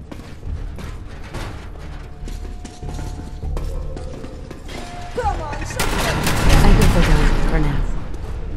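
Shotgun and rifle fire in a modded survival playthrough of the video game Fallout 4, a few spaced shots and mechanical clatter under a player's voice, building to a louder burst near the end.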